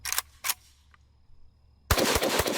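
An AK rifle fires 7.62x39 full metal jacket rounds loaded with smokeless powder. Two sharp, loud shots ring out, then a short lull, then a dense, loud burst of rapid firing.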